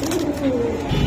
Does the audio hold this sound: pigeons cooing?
yes